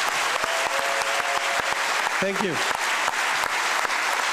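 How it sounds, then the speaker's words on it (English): Sustained audience applause at a makeathon final pitch event, dense steady clapping throughout with a brief spoken thanks partway through. "Big applause."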